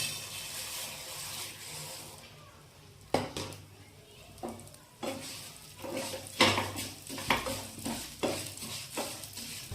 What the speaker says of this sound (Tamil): இப்போது பாதாம் திராட்சை இதே நெய்யில் இந்த சேமியா வறுத்து எடுத்துக்குவோம்.